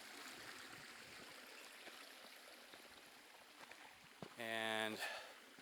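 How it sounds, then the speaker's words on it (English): Raspberry Creek, a fresh mountain stream in a canyon of the Blue Range Primitive Area, Arizona, flows with a steady soft rush throughout, followed near the end by a brief loud tonal burst over the water noise. "This is Raspberry Canyon, Raspberry Creek, and have you take a look here."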